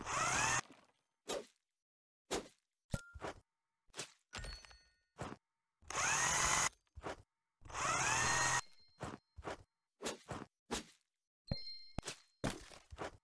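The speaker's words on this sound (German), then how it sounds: "jetzt müssen wir schrauben" Power drill driving screws into a roof in the game House Builder: repeated short whirring bursts with silent gaps, a couple of longer sustained runs, close and clear.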